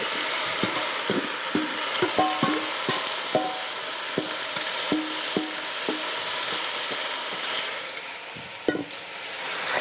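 Vegetables go into a hot pan with Dominican-style stewed chicken, giving a soft, close sizzle and frying hiss broken by repeated sharp clinks and scrapes of stirring.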